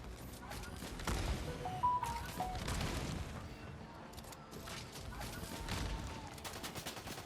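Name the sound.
gunfire in Fortnite video game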